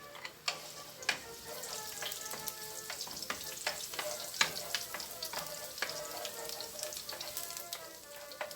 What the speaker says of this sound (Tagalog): idagdag at isutay natin ang ating garlic